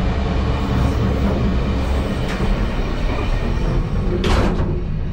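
A moving old train carriage gives a loud, continuous rumble and rattle from the interior, with a brief sharper hiss or whoosh near the end and no talking.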